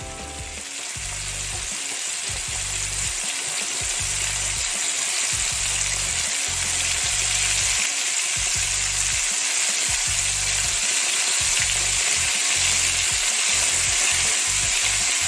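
A whole squid deep-fries Korean style in a generous amount of oil, giving a loud, constant sizzling hiss that runs unbroken throughout, close and dense with no voices.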